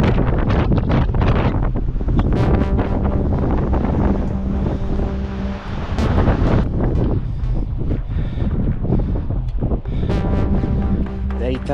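Strong wind buffets the microphone near the summit of Wild Rose Peak in Death Valley, a loud, continuous roaring rush that barely lets up, with faint voices partly buried beneath it.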